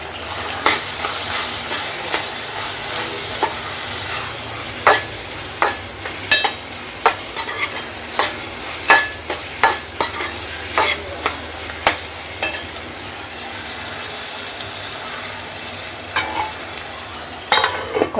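Brinjal and tomato curry frying in oil in a pan while being stirred, with steady close sizzling and frequent sharp clacks of a spoon against the pan, no talking.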